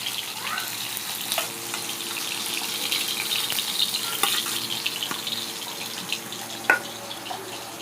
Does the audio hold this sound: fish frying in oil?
yes